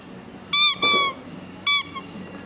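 A squeaky pet toy in a shop gives three sharp, loud squeaks, two close together and one after a short gap, over a low background hum.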